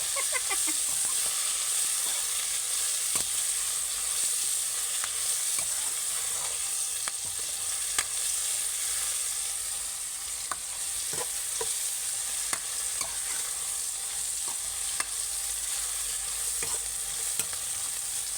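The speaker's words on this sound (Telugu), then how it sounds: "ఒక్కసారి అలా అలా కలిపేసేసుకోండి" Fried okra being stirred in a pan, a steady continuous sizzle and hiss of frying with occasional soft scraping and clinking of the spoon, close and alone without talk.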